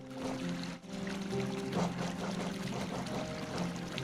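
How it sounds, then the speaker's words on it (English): A waterfall in the video game Hollow Knight rushes and splashes continuously at close range, with a steady tonal hum running underneath. "You always check beyond the waterfall."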